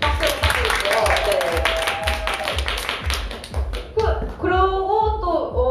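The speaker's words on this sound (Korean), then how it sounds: "다시 한번 박수 부탁드릴게요" Audience at a live jazz, classical and vocal show claps in a quick, even rhythm of loud sharp beats. A voice talks over the clapping and carries on as it thins out.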